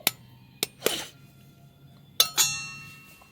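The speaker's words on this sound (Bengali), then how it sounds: "একটা ডিম ফাটিয়ে নেব" An egg tapped and cracked against a bowl holding a bowlful of wheat flour, salt and oil, several sharp close clinks followed by a short ringing rattle.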